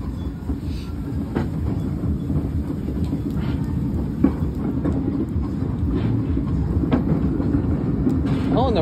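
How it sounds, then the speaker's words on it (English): Ride aboard a Lakeshore Railroad train in the rain, with a steady rumbling roll of the cars, occasional clicks and clanks from the track, and faint background voices. "Me and Stan have the whole train to ourselves."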